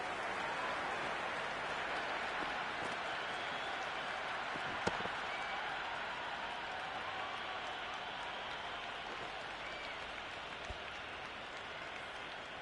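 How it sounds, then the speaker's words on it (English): Crowd buzz from the stands of a cricket video game, a continuous dense murmur and faint applause-like hiss that holds steady throughout, with one brief sharp knock partway through. "There's a buzz, a real buzz coming from the stands."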